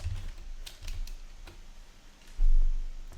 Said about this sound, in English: So let's type it in the description.